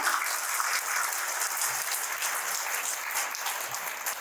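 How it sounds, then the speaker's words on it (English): An audience at a musical extravaganza show by GSB Sabha Navi Mumbai claps in a continuous, even wash of applause, moderately loud and without speech. "huge round of applause for you all"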